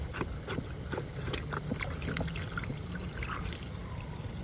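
Water drains from the drain plug on a swimming pool filter, a steady close trickle and splash with small gurgling bursts, moderately quiet and continuous, with no speech.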